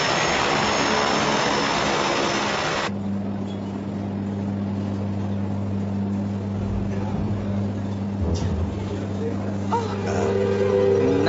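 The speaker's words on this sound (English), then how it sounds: "I'll call the hangar and have them warm up the jump jet." A jump jet engine warming up, a loud broadband roar that drops after about three seconds into a steady droning hum with strong sustained tones, continuing near and constant with small shifts.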